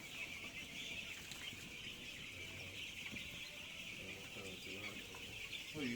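Broiler chicks in a poultry fattening house give faint, soft clucks and peeps over a steady hum, scattered sporadically through the din of the flock.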